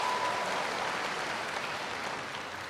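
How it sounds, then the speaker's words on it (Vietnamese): A studio audience applauds at the gala finale of a TV dance competition: dense, steady clapping throughout, fairly even and slowly easing off toward the end, with no voices heard. "xin quý vị một tràng vỗ tay vì điều đó"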